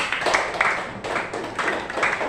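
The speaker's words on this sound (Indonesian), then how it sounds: "Tepuk tangan untuk kelompok 3" Classroom clapping for a student group, a short run of hand claps in a few loose bursts, moderately loud and fairly close, with no talking over it.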